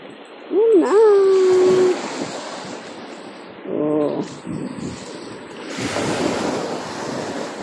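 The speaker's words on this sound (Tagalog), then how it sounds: "Yan na ang alon." Sea waves break and wash up on a beach shore in surging rushes, loud and close, with wind noise on the microphone and people talking over the surf.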